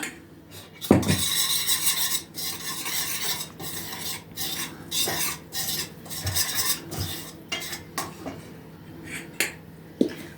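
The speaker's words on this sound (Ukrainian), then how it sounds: "Так, чекайте, зараз собі трошки вінчиком розмішаю ще." A whisk stirs yeast dough mixture in a bowl with rapid rhythmic scraping and clinking strokes, close and fairly loud, pausing briefly between bursts.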